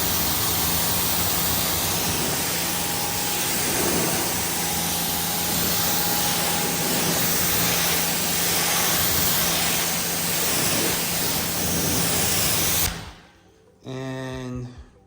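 Pressure washer spraying water to rinse foam off a car, a steady loud hissing blast running continuously before cutting off near the end.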